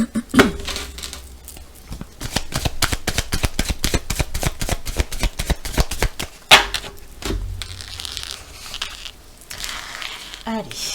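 Tarot cards are shuffled and then drawn one by one, producing a quick, crisp run of card riffles and slaps, with someone speaking French over them.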